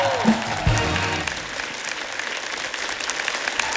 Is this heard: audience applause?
yes